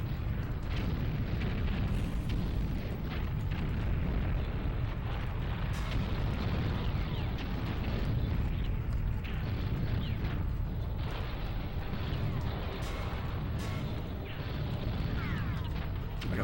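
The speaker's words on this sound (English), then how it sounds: "I just want to destroy all these buildings" Buildings blow up under tank fire in the game Battletanx: Global Assault, a continuous dense roar of blasts and rumbling destruction, loud and unbroken throughout.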